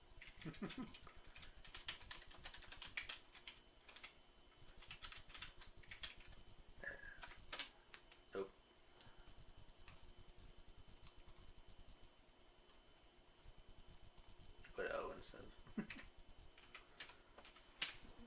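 An old computer keyboard being typed on in scattered bursts of clicky keystrokes, fairly close and quiet, with pauses between runs and no talk over it.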